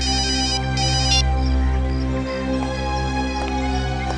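A repeating electronic phone ringtone plays loudly and steadily, its melodic pattern cycling without pause over a low hum.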